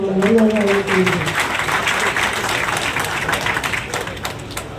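A crowd at a Telugu Brahmin Association gathering in Coimbatore claps to welcome a speaker. A voice is heard briefly at first, then steady applause from many people continues and slowly eases.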